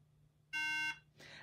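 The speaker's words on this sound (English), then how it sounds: "that's what is causing the beeping issue and it not powering up, because it cannot detect any RAM" An iMac that cannot detect its RAM and will not power up emits a single clear electronic beep lasting under half a second, followed by a faint noisy click.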